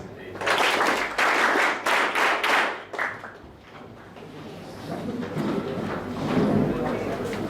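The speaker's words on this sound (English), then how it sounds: "Clap your hands." A short burst of hand clapping from a small group at a traditional archery training workshop, loud and close for a few seconds, then fading into voices and room noise.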